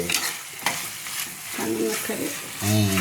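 Country chicken curry sizzles in a pan while being stirred, with scraping strokes of a spoon against the pan over a soft, steady frying hiss, close and moderately loud, no talking.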